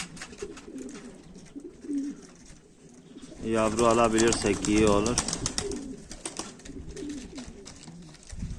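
A grey female pigeon, an old bird, coos in a low, rolling burst under a man's speech, with other faint cooing nearby.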